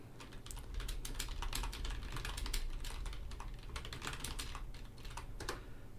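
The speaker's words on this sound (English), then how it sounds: "So we can type this into our command line." Rapid clicking keystrokes on a computer keyboard as a pip upgrade command is entered at a command line, a steady close run of taps lasting several seconds with no talking.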